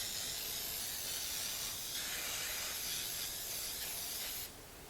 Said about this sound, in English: I'm going to spray it with some nonstick cooking spray.